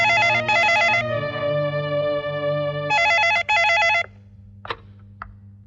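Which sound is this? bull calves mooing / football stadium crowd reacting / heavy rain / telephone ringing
telephone ringing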